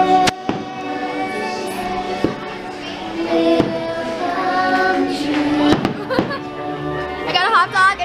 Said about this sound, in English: the fireworks have just started